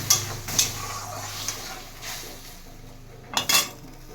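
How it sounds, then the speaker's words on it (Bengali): A pan of masoor dal chorchori gets a splash of water and a lid, heard as a few sharp metallic clanks and clinks with a brief low splash between them, close and without talk. "অল্প জল দেবো, ঢাকা দিয়ে দেবো"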